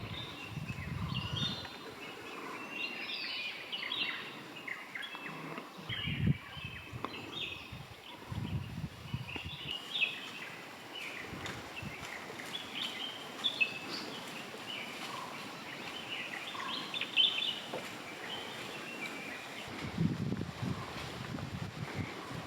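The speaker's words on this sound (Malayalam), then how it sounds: "രാവിലെ ഏത് ഫോറസ്റ്റിൽ കയറിയാലും ഇങ്ങനെ നമ്മുടെ മനസ്സ് കുളിർക്കുന്ന കിളിനാദങ്ങൾ നമുക്ക് കേൾക്കാം" Morning birdsong fills the forest of BRT Tiger Reserve in Karnataka, scattered chirps and calls at moderate distance over soft wind noise and low rumbles, no voices.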